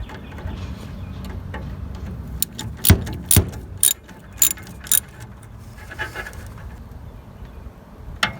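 A ratchet clicks while loosening a radiator fitting on a 1963 Mercury with a 390 FE engine, sounding as a few sharp bursts of metallic ticking in the middle, close and fairly quiet, with small handling noises between.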